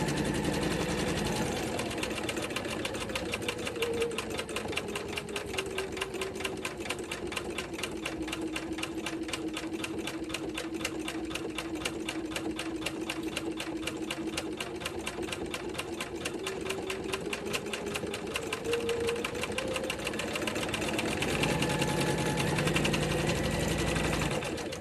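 An embroidery machine stitches small blossoms onto a quilted zipper pouch in the hoop, its fast steady needle chatter running continuously with a shifting motor whine and no talking.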